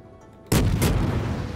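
Shooter video game gunfire: a sudden loud blast with a second sharp shot close behind, trailing into a rumbling echo.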